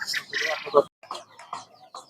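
Chickens and roosters cluck at a busy Fatullah duck and chicken market in Narayanganj, short clucks rising briefly among nearby people talking.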